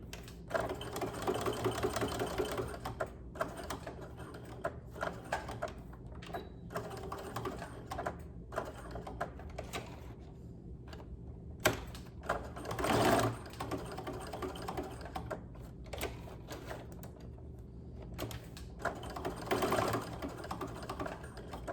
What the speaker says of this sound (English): So I'm just going to do an edge stitch around that full corner, and I'm just doing a regular straight stitch.